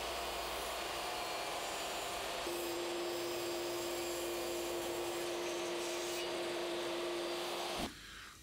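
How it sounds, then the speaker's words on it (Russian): A power saw runs with a loud continuous whine as it rips a solid-wood panel lengthwise, a steady tone holding for several seconds before the motor winds down. "можно распустить щит по длине, с минимальным запасом, буквально полмиллиметра"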